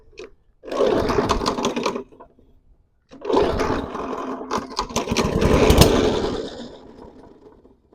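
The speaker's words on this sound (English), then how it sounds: "Okay, backfire." Small lawn equipment engine from a non-running lot being revived, firing in two rough bursts with a gap between them, sputtering and popping loudly up close before winding down near the end.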